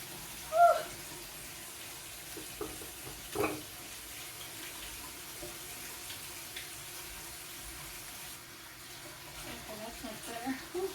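Water runs steadily from a kitchen tap, a faint, even hiss with a few small clinks and knocks near the start and more light clatter toward the end.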